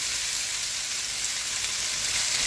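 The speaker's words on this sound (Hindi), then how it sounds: "बस 1 मिनट के लिए मसालों को भूनना है।" Spices frying in a pan for potato naan give off a steady, close hiss of sizzling oil with no other sounds or talk.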